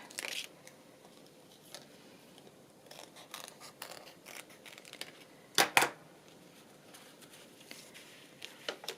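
Scissors snipping through rub-on transfer sheets for a music journal, with light scattered snips and paper rustle, one sharper double cut standing out midway, quiet and close.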